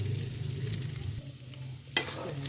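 Hotdog and onion frying in a pan while being stirred: a soft, steady sizzle over a low hum, with one sharp scrape near the end.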